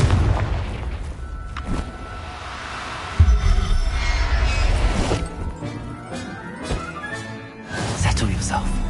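Confringo blasting spell going off in a Harry Potter-style magic video game: a sudden heavy boom followed by crashing debris and rumbling, with further bursts and clattering effects over the next few seconds, loud and close.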